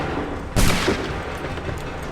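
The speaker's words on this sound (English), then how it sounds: "Fire now!" A musket volley in Assassin's Creed III: a single loud, sudden burst of massed gunfire that fades into a brief rumbling tail, with no talking.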